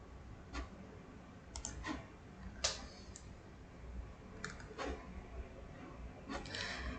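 Computer mouse clicks at a desk: a handful of faint, sharp single and double clicks spaced irregularly over a quiet room hum.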